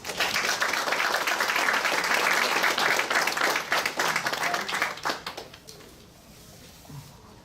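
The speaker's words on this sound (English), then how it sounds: "Let's have a round of applause, please." A conference audience gives a round of applause, dense clapping that holds steady for about five seconds, then thins out and fades to quiet room tone.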